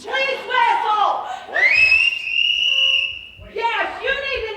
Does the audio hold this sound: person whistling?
yes